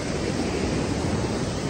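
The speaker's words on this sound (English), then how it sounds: "The sea's coming in" Sea waves wash in on Skegness Beach in a calm morning, a steady broadband hiss of surf with no voices.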